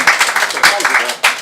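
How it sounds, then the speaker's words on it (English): A small audience claps for the incoming Estonian IT and telecom association CEO, a brief patter of hands that rises in bursts before he begins speaking. "round of applause, Jüri Jõema."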